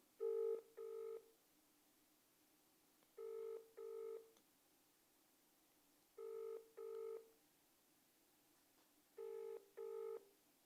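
A telephone call rings out with a dual-tone ringback, four evenly spaced pairs of rings separated by silent pauses, faint and alone with no voices.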